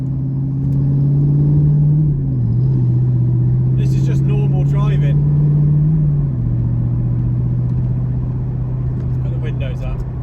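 An Audi R8 fitted with a Quicksilver exhaust drives along in normal driving, its loud, steady engine drone holding close and constant throughout with slight pitch shifts, plus brief higher-pitched noise bursts midway.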